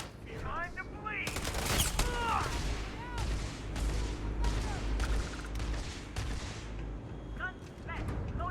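Rapid, loud gunfire from the Rattler mag shot shotgun in the video game Starfield, with repeated heavy blasts mixed with chirping electronic effects and a busy combat backdrop.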